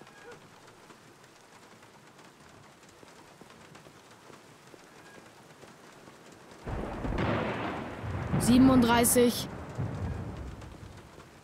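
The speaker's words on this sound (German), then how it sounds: "Und es regnet und regnet." Steady video-game rain patters throughout, then a heavy thunderclap booms and rumbles midway, with a brief spoken word over the storm.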